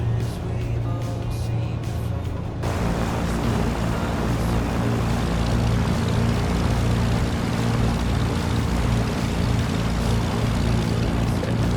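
A twin-engine propeller aircraft starts up on the ground in foggy Amsterdam, its engine settling into a loud, steady droning roar that thickens noticeably early on and holds throughout.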